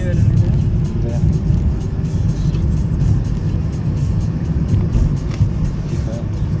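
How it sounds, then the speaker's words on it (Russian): A car on a city street during a driving exam speeds up, its engine humming steadily beneath an instructor's spoken directions inside the cabin. "Разгоняй автомобиль."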